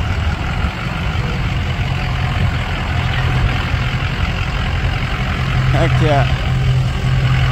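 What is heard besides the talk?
big V8 diesel truck engine idling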